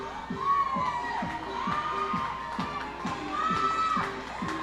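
The crowd at a minor league baseball game between the Reading Fightin Phils and Portland Sea Dogs builds in noise, with a steady roar of voices, cheers and children's shouts, while a rhythmic pounding and a wavering tone repeat underneath.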